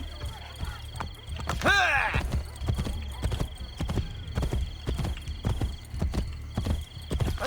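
Horse hooves clop in a steady rhythm as a horse travels in Assassin's Creed Brotherhood, with a loud whinny early on and a continuous background bed under the footfalls.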